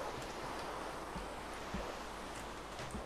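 Steady, soft rain hiss with faint scattered patters in Minecraft, continuous and low in level.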